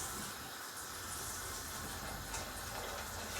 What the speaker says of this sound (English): we are also now going to add all our beef stock